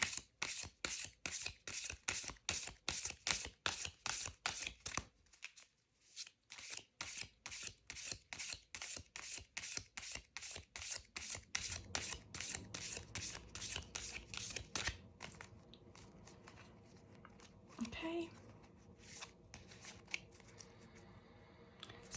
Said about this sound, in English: I'm just gonna shuffle again on camera